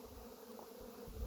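Honey bees hum quietly around overwintered mini mating nucs, a soft, continuous close-range buzz with no voices over it.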